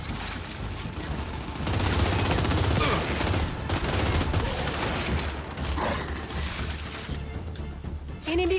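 Heavy sustained gunfire from a weapon in the shooter video game Gears 5, with dense rapid bursts and mechanical clatter. The shots are loud and continuous, ease off briefly and then return, and a faint voice sits under them.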